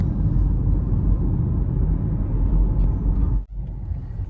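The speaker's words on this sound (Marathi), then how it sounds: "चला, आपली आता गाडी निघाली." A car pulling away, a continuous low engine and road rumble close by that holds steady, with a brief dropout near the end before the rumble resumes.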